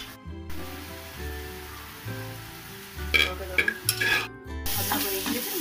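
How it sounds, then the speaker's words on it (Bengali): Prawns fry in a pan with a continuous close sizzle and crackle, with occasional sharper spatters, over steady background music. "চিংড়ি মাছটা খুব একটা বেশি কড়া করে ভাজবো না"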